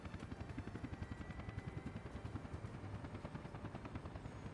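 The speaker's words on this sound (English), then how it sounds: "this helicopter's slowly returning back to here. So what will happen is when this helicopter lands" Helicopter landing in the city-building game Workers & Resources: Soviet Republic, a steady rapid rotor thump pulsing evenly throughout, moderately loud with no talk.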